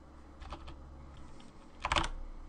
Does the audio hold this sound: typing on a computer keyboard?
yes